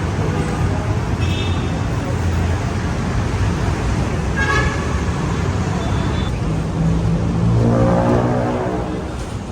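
Street traffic in Manila heard from an overpass, a steady loud roar of passing cars and buses with a few short horn toots rising above it, continuing without a break.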